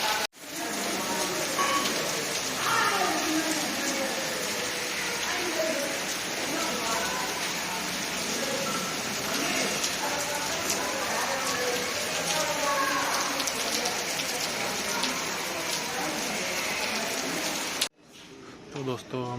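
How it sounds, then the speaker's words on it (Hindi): Heavy rain pours steadily at a station during a Delhi–Sri Ganganagar intercity train journey, a dense, loud, continuous hiss of drops on surfaces that cuts off abruptly near the end, with a brief voice afterward. "बारिश तेज हो चली है"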